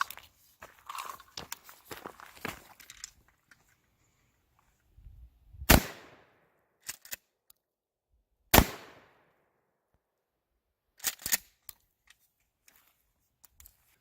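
Two sharp shotgun blasts fire Federal FlightControl 00 buckshot at a target 7 yards away on an outdoor range, each loud report with a short decaying tail. Quieter clicks and handling noises fall between and after the shots.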